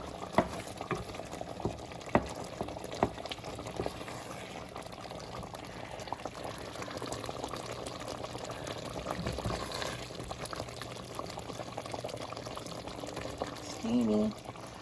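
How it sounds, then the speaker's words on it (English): Potato soup simmering in a pot on a stove, a soft continuous bubbling with small pops and occasional louder clicks, and a brief voice near the end. "I've turned it down to a simmer now."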